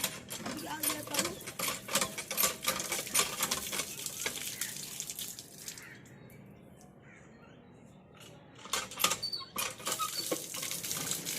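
Water runs from a tap in bursts with rattling, clattering splashes, easing off briefly midway before gushing again.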